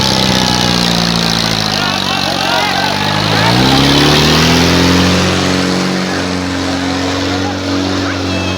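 A four-cylinder UK-made Ford tractor revs at a fair's tractor disc competition. Its loud, continuous engine drone rises sharply in pitch midway, then holds at a higher, steady roar.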